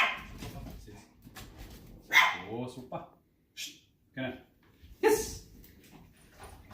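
A dog at raw food makes low growls and whimpering sounds close by, broken by short gaps, while a person speaks over them.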